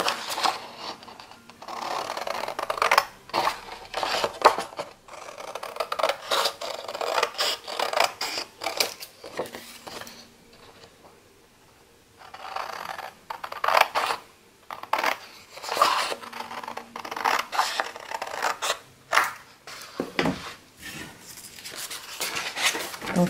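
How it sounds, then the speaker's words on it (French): Scissors snipping through a paper page for a scrapbooking album, a steady run of close, crisp cutting strokes and rustling with a short pause midway. "je vais la découper au ciseau à l'intérieur de mon trait de crayon"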